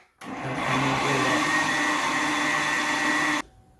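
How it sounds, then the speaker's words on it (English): A variable-speed blender switches on abruptly at low speed and runs with a steady, low-pitched motor roar for a few seconds while blending tomato basil soup, then cuts off sharply. "We have a variable blender, variable speed, so we're just going to turn that on and start on low."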